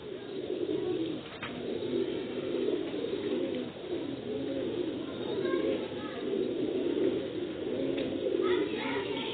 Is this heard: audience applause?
no